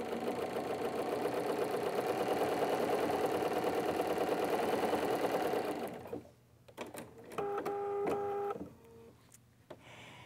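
A sewing machine runs a straight stitch through fabric with a fast, steady mechanical whir for about six seconds, then stops, and a short second burst of stitching follows. Nobody speaks.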